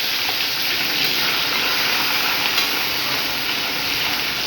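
Dried loitta fish frying in hot mustard oil, a steady, loud, unbroken sizzling hiss that holds evenly throughout without pause.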